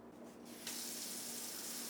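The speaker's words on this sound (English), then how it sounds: "next I'm going to thoroughly rinse my vegetables and place them onto my cutting board" Tap water runs steadily into a kitchen sink for rinsing vegetables while chicken tortilla soup is being made, starting softer and then turning into a full, continuous gush with no talking.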